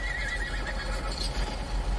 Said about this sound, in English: Sound like a horse. It is too.